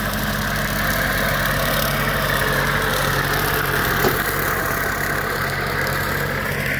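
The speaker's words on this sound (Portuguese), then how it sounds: "Deixa o trator passar aí." Tractor on a Brachiaria grass pasture, its engine droning steadily at a low rumble with vibration, close and constant, alone without talk.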